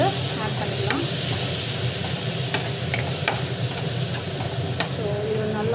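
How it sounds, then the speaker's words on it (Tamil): Ginger garlic paste sautéing in a pan gives a steady close sizzle with scraping stirs and occasional clicks of a utensil, while a voice talks over it intermittently. "தேவையான அளவுக்கு ஜிஞ்சர் கார்லிக் பேஸ்ட் வந்து போட்டுட்டு ஜஸ்ட் வந்து வதக்கிட்டுருக்கோம்."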